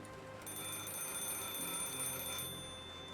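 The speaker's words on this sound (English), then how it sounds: "The sound of the rain wasn't able to conceal the ringing phone." An old telephone ringing in an abandoned city street in Snowbreak: Containment Zone, a steady electronic ring continuing over a constant wash of rain.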